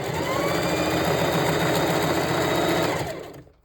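A sewing machine stitches a track onto a stretched mesh dome cap, running as one steady, close, loud whir for about three seconds before slowing and stopping.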